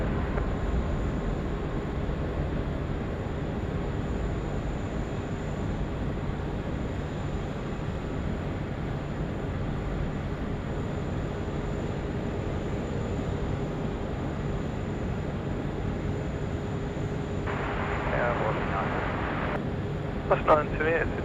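Aircraft at Sydney Airport at night, a steady distant jet rumble that stays level and fairly faint throughout, with a few brief clicks near the end.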